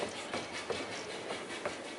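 A small steam train runs along a flower-lined miniature railway, its wheels giving a soft, steady clickety-clack rhythm at a moderate distance, with no voices.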